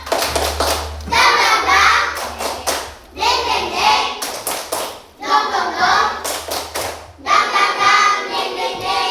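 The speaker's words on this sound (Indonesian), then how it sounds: "Kita tepuk semangat dulu ya." Second-grade Islamic religious education class doing a rhythmic spirit clap, four bursts of children's patterned clapping with short pauses between, loud and close, with a steady low hum underneath.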